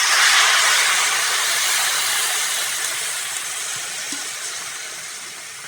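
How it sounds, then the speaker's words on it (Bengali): Water hitting a hot pan of ridge gourd and potato cooking with salt and turmeric, a loud, steady broadband hiss and steam that eases off slowly over several seconds. "এবার জল দিয়ে দেবো।"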